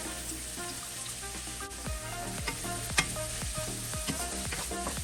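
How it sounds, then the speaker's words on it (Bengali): Finely chopped onions sizzle steadily in hot oil in a pan, with repeated scraping strokes of a spatula stirring them throughout. "এখন লালচে করে পেঁয়াজটা ভেজে নিতে হবে"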